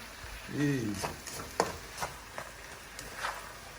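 Vegetables and onion are stir-fried Cantonese style in a pan, with repeated scraping and tossing strokes over a soft sizzle and a brief voice early on.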